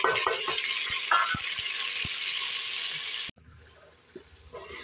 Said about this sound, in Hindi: अब हम इसमें मिक्स करके भुनाई करेंगे।